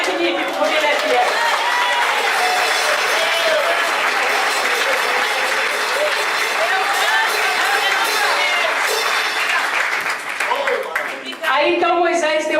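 A church congregation applauds loudly and steadily for several seconds, with scattered shouts mixed in, before a short dip and renewed clapping near the end.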